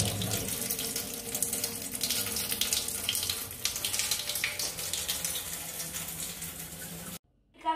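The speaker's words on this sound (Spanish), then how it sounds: "un globo lleno de agua tiene una fuerza elástica que sale el agua a baja velocidad" Water streams steadily out of a water-filled balloon, a continuous splashing gush that runs for several seconds before cutting off abruptly near the end.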